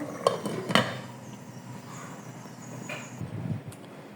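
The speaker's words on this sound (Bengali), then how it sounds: "মাছগুলো এখন ঝোলের সাথে ভালো করে মিশিয়ে দিতে হবে।" A spoon stirs rohu fish into a curry with flat beans and potato in a pot, giving a couple of sharp metallic clinks early, then quieter scraping and sloshing close by.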